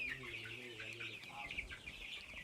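Local farm chickens in the Rupununi clucking and calling close by, a steady overlapping chorus of hens and fowl sounds with a rough tonal voice, little or no talk over it.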